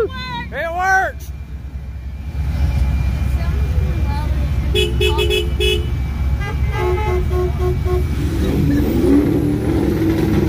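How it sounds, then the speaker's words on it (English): A car horn on a hot rod honks in a rapid series of toots amid idling and revving engines on a busy strip at a nighttime rod run, with excited voices and cheering nearby. "Your horn works, Dustin."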